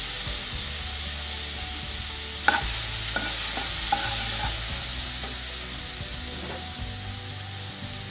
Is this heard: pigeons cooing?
no